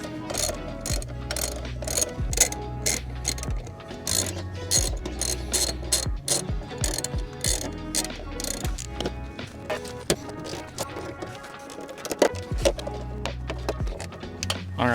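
A hand ratchet clicks rapidly and steadily up close as bolts are loosely run in on a Jeep Gladiator, with bursts of ratcheting separated by brief pauses and shifts of metal parts.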